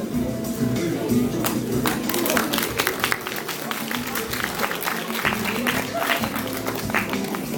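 An audience at a homemade-outfit show claps in a dense, sustained round of applause, loud and close, with voices mixed in.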